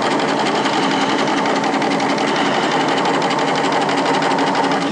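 A sewing machine stitching a combined facing on a garment, running as a close, steady, loud mechanical whir with a fine rapid stitching rhythm and no pauses.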